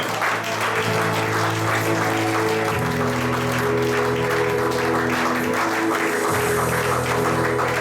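A church congregation applauds steadily and loudly throughout, with music or sustained tones underneath and no clear cheering voices standing out.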